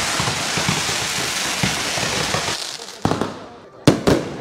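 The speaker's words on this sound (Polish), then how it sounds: "będzie leciała w ciebie fajerwerka na pewno" Fourth of July fireworks crackle and pop in rapid, dense bursts, with a couple of sharper, louder bangs near the end and voices faintly in the background.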